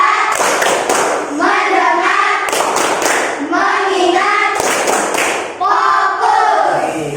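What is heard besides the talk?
classroom "tepuk fokus" rhythmic clapping chant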